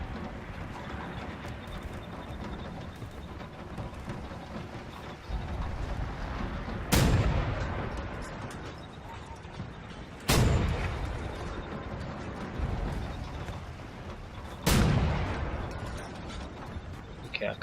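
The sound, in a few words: turret firing in video game Wolfenstein: The New Order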